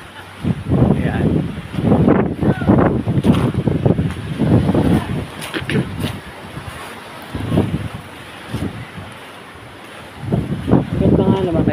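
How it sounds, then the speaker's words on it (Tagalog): Strong ocean waves surge and crash at a beach resort in Mauban, Quezon, in loud swelling bursts mixed with heavy wind buffeting, while a person talks between the surges. "sobrang lakas ng alon"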